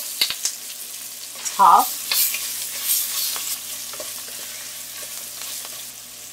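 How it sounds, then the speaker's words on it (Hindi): Curry leaves, green chili and onion sizzling in hot oil while being stirred for a vegetable sambar, with a bright steady fry and a few scraping stir strokes close by; a brief spoken word is heard. "अब इसके अंदर ये तमाम कड़ी पत्ता और ग्रीन चिली शामिल कर दें, अनियन शामिल करेंगे"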